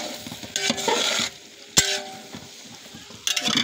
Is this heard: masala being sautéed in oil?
yes